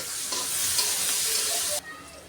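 Chopped onions and green chilies fry in hot oil in a pan, giving a loud, close, continuous sizzle and hiss that drops abruptly to a quieter sizzle near the end.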